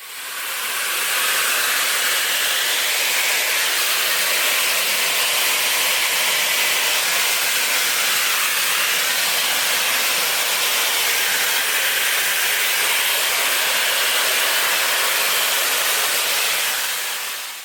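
A Shark Flex Style hair styler with its paddle brush attachment blows a steady, loud rush of air that runs unbroken for the whole stretch, with no talking.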